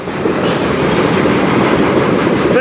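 A CN manifest freight train with locomotives 2928 and 3834 rolls past in Sarnia on a chilly day, a loud, close, continuous rumble of wheels and cars with a thin metallic squeal above it.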